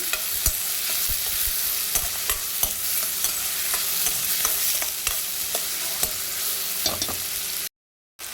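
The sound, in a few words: chopped onion frying in oil for egg curry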